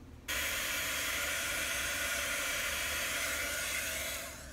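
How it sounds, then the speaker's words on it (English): A heat gun blows hot air onto a crafted tumbler with a constant close broadband whoosh that switches on abruptly and fades slightly near the end, with no talking. "Want to use the heat gun."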